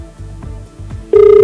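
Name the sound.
telephone ringing while placing a call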